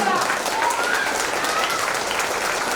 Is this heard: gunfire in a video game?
no